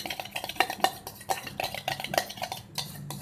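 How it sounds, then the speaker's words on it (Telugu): A spoon stirring yogurt into bottle gourd chutney in a bowl, with light, irregular clinks and scrapes against the bowl, fairly quiet and close. "ఇప్పుడు కొంచెం 2-3 స్పూన్లు పెరుగు ఇట్లా బాగా కలిపేసుకొని పచ్చట్లో కలిపేసుకోవాలండి"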